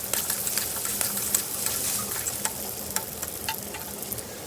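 Potatoes frying in oil in a wok give a steady, close sizzle with small crackling pops throughout, with no talking.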